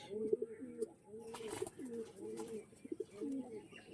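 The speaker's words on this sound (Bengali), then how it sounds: "একদম অরেঞ্জ চোখের পায়রা, প্লেন চোখের পায়রা," Orange-eyed pigeons coo in soft, repeated throaty phrases nearby, with a few overlapping calls and faint background noise.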